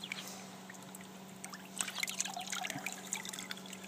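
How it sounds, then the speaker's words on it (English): Water trickles from the output end of a garden hose fed by a small solar-powered pump, a faint, soft dribble that grows a little fuller partway through over a low steady hum. "So if I pull out the output end of the hose, there you go, that's how much."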